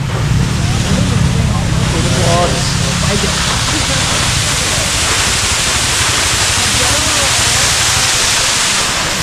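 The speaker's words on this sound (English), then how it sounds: "Another stop at a beautiful waterfall on the side of the street." Steady, loud rushing of a roadside waterfall in Vietnam's Ha Giang fills the scene, a dense broadband roar with some low rumble and faint voices briefly at the start.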